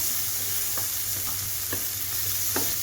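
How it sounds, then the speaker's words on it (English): Chicken and vegetables are stirred around a frying pan under a constant sizzle, with a few soft scraping strokes at an easy pace and no voices. "So I'm just gonna stir this around, kind of just get all that flavor off of there, just like that."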